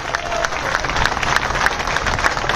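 A crowd at an outdoor protest sit-in applauds, producing dense sustained clapping close by that fills the whole stretch.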